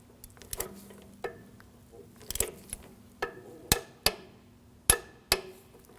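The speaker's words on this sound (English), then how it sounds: "We're going to torque this to 33 foot-pounds." Sharp metallic clicks sound one at a time from a torque wrench tightening an oxygen sensor on a 2006-2009 Audi S4 4.2L V8, irregularly spaced and close by in a quiet garage.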